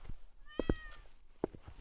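A cat meows twice close together, then once more after a short pause. The cries are soft, short and fairly distant over a faint room background, with no talking.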